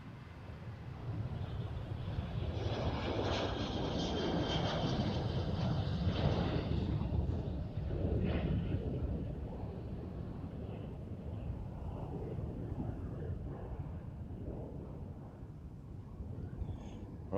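Boeing 737 airliner passing at Amsterdam Schiphol Airport, a moderate broad engine rumble that holds steady and then eases off slightly, with some wind noise and no clear talking.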